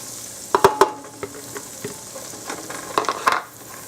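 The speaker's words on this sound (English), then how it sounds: "I'm going to add some butter to my pan, and I'm going to saute the onions and the leeks." Onions sauté in butter in a pan with a soft, steady sizzle. Close clinks and scrapes of stirring come in short bursts near the start and again toward the end.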